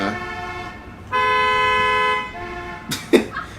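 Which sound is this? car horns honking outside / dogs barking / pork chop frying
car horns honking outside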